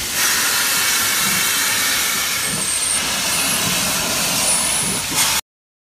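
A steam locomotive giving off a loud, steady rush of hissing steam that runs continuously for about five seconds before cutting off abruptly, with no voices.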